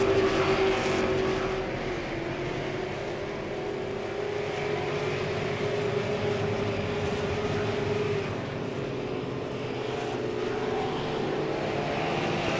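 Super Late Model race cars pass on a racetrack, a sustained loud engine roar droning and shifting in pitch as the cars come through, steady for the full length with no talk.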